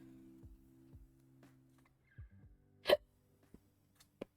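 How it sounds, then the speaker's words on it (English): A person hiccups several times at irregular intervals, the sharp catches quiet and close. One of them is noticeably stronger than the others. "there's the hiccups"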